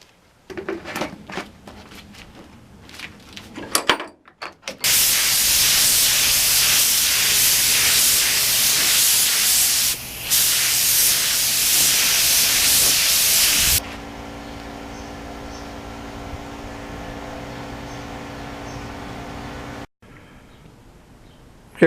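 An airbrush sprays clear coat on motorcycle parts in a long steady hiss lasting about nine seconds with a brief break midway, after some faint clicks and handling noises, followed by a quieter humming tail.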